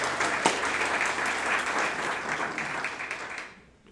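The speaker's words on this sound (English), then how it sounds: "Give yourself a hand around of applause" Audience applause at a graduation ceremony, a full burst of many hands clapping that holds steady and then fades out toward the end.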